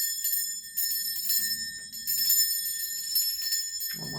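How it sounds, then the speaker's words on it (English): A handheld bell struck for space cleansing rings out in bright, sustained high tones, struck again several times so the shimmering strokes overlap through the passage, with a brief low thump near the end. "I'm going to be ringing this bell. This is just to cleanse the space around us."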